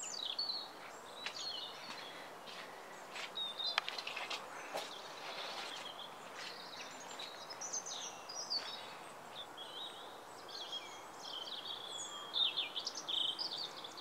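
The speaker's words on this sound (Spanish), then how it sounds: "hay muchos pajaritos cantando y como que eso le da el toque al jardín" Small birds sing in a Moroccan garden, with soft, scattered chirps and short trills drifting over a quiet outdoor background at a gentle distance.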